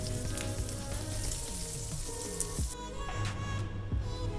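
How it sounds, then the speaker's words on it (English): Minced garlic sizzling in a teaspoon of oil in a pan, a dense steady hiss throughout with a few faint clicks, close and even, under background music. "Now in the same pan, add a teaspoon of oil. Next goes the minced garlic,"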